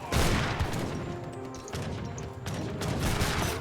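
Musket volleys crackle in a historical real-time strategy battle, dense overlapping shots forming a continuous loud clatter with brief dips and swells over about four seconds, no talking.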